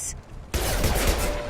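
Sustained gunfire against security mechs in the video game Mass Effect 2, a dense burst of rapid shots and impacts that erupts suddenly after a quieter moment and continues loudly to the end.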